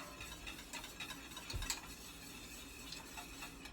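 Cream of wheat being stirred in a pot for an Auflauf, giving a faint, steady scraping swirl with occasional light clinks, heard quietly and alone.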